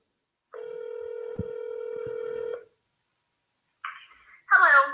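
On an outgoing phone call, a single long electronic ringback tone sounds for about two seconds, followed after a pause by a brief tone and the start of a voice.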